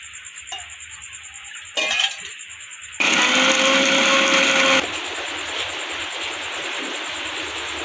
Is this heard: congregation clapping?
no